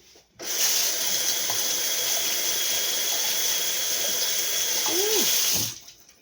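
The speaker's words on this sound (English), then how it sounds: "Let me wet my hands." A kitchen tap turns on and runs as hands are wetted, a loud steady gush of water under the faucet for several seconds before shutting off.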